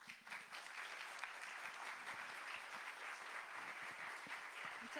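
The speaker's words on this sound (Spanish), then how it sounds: "les pido que le demos un aplauso a Carmen" Audience applause at an academic university education congress, welcoming a speaker to the stage: dense, steady clapping from a large crowd that holds an even level throughout without any talk over it.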